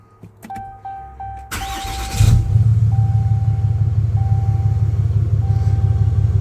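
A 2019-or-newer 6.7L Cummins diesel engine cranks and fires after a fuel filter and water separator change, then settles into a loud, steady low rumbling idle close by, with a faint chime heard beforehand.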